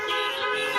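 A car horn gives one short, steady honk of under a second, close and clear, sounded from a car in place of saying amen at an outdoor drive-in prayer service.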